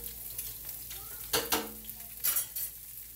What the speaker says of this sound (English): Saute them with olive oil.